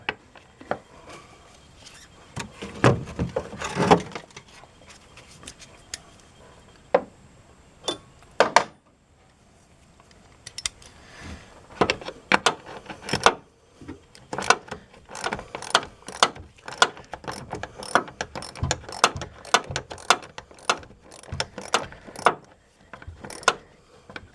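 A ratchet wrench loosens 10 mm bracket bolts on a Chevy Silverado, clicking in quick bursts of repeated ratcheting strokes with short pauses between, close and loud, with no voices.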